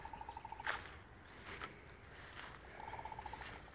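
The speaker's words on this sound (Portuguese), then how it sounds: "É um pássaro que tá no brejo aqui." A bird calls from a marsh in two short bursts of rapid, evenly spaced notes, separated by a pause with a few faint higher whistles, all fairly quiet over a soft outdoor background.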